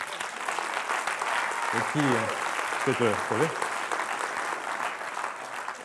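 Audience at a New Year's greetings ceremony applauds steadily, dense clapping filling the room while a voice speaks briefly over it.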